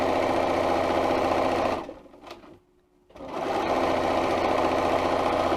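A Bernina 335 sewing machine runs steadily stitching a seam, loud and close, with a brief pause in the middle before the whirring motor starts up again.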